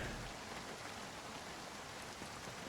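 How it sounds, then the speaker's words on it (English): Steady rain falls in a winter survival video game, a dense, even hiss of droplets that holds constant throughout with no voices over it. "I mean, it's now raining"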